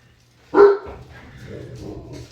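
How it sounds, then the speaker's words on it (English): A pet dog gives one sharp, loud bark indoors, followed by a low whimpering tail and faint room noise. "Sorry, that's my dog."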